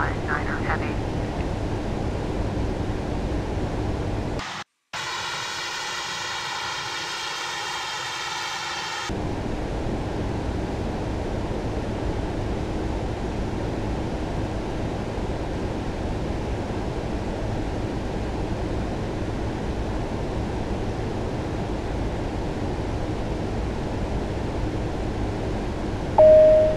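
Jeju Air Boeing 737 in Flight Simulator X on a flight from Incheon to Jeju: a steady, broad engine and airflow roar throughout, briefly broken by a short burst of tonal electronic audio before the roar resumes.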